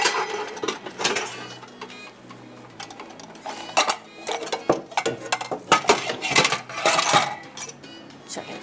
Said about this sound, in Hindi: अब एक मैं बड़ा वाला बर्तन ले लेती हूँ जिसके अंदर हमने सारी चीज़ों को मिक्स करना है